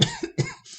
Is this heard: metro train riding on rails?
no